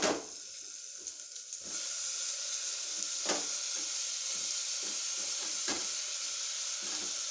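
Chopped tomatoes fry in a pan while mutton chukka is being cooked, giving a loud, steady, continuous sizzle with a few brief stirring knocks and no talk.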